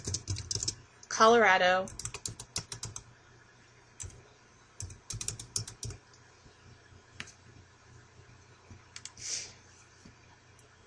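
Rapid, uneven keystrokes on a computer keyboard while editing text in Word 2007, with scattered clicks over about ten seconds and a short stretch of speech near the start.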